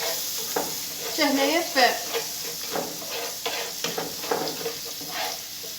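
Seafood filling with spices stirred and frying in a pan for a seafood pastilla with squid, shrimp, cuttlefish and fish, steady sizzle with scraping stirs throughout while someone talks over it.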